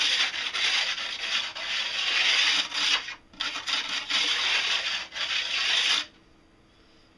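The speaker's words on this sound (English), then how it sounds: "I'm going to take the stone and just rub it up and down the edge" A sharpening stone rubs up and down a snowboard's steel edge to take off burrs, a steady close scraping in long strokes with a brief pause near the middle, then stopping abruptly.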